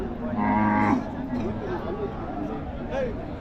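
Kangayam cattle at a cattle market give a clear moo near the start, with busy crowd chatter and voices around them.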